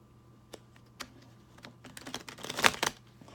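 Tarot cards get shuffled by hand in quick, uneven bursts of papery flicks and taps that build to a denser flurry near the end, close up and without talk.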